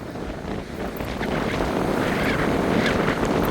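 Steady, loud wind buffeting the microphone at Wainuiomata Beach, New Zealand, a continuous roaring rush that swells slightly louder partway through, with no voices.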